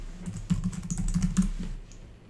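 Quick, light keystrokes tap out a password on a computer keyboard, a short close burst of clicks lasting about two seconds.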